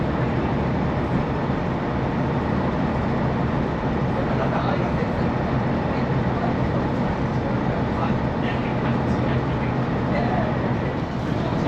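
Steady interior rumble of a Great Western Railway train running through Devon toward Crediton on the Barnstaple line, a continuous broadband roar with rattling that holds even and loud throughout.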